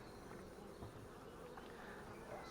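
Honey bees hum steadily around an open hive during frame work, a soft continuous buzz near the listener with no talk over it.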